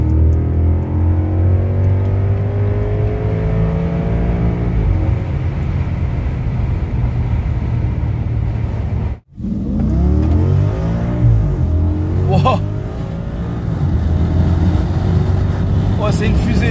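An Audi S8 V8 accelerating hard in third gear, heard from inside with rising engine tones, a sharp drop during the gear change, then another strong pull; someone talks over it.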